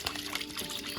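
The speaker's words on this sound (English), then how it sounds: "You swish it around in your warm water," A cleaning solution is swished by hand through a bucket of warm water, giving a short burst of sloshing, splashing liquid close by.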